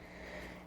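A single short throat-clearing snort from a person, a brief nasal burst close to the mic, rising sharply at the very end after a quiet breathy lead-in.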